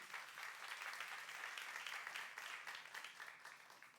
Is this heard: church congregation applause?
yes